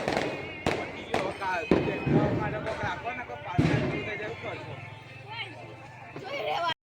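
Diwali firecrackers burst outdoors in several sharp, loud bangs spaced a second or so apart, with people chattering between the blasts.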